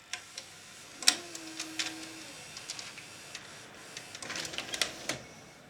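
A Panasonic NV-G7 VCR whirs and clicks through its tape transport during an eject, with a short motor hum and a scatter of small mechanical ticks and clunks up close.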